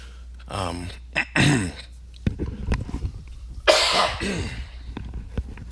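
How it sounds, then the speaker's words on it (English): Several harsh coughs in separate bursts, close and loud, with short gaps and a brief throat-clearing noise in between. "I'm getting really tired of coughing"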